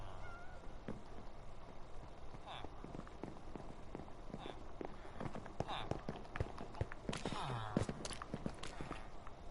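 Minecraft Bedrock cats meow several times in short bursts, mixed with game footsteps, taps and clicks, with a brief rising sweep near the end.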